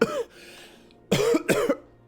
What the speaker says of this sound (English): He's coughing. He's got a little bit of smoke lung.